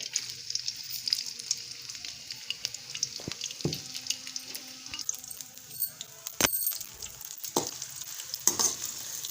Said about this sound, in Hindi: प्याज मैंने ऑयल में डाल दी।